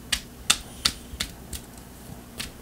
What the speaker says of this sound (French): Je vais continuer de brasser les cartes un petit peu.